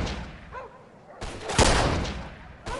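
Gunfire in the Mafia 2 video game, a few sharp shots and short bursts at close range, mixed with game effects and brief shouting.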